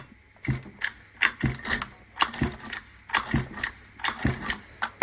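Repeated mechanical clicking and whirring as a 23cc engine from a 1/5-scale Baja is pulled over by hand, uneven bursts with rhythmic compression chuffs, close by, no voices.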